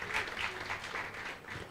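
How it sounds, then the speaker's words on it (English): An audience at a women's economic assembly side event at the Mining Indaba gives steady, moderately distant applause that holds evenly throughout. "Let's give her a big round of applause."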